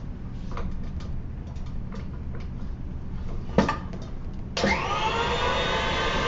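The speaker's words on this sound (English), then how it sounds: "when you're doing egg whites, you want to do them at full heavy speed" Electric mixer whipping egg whites for coconut macaroons at full speed, a steady whirring drone with light ticking against the bowl that jumps louder and higher near the end.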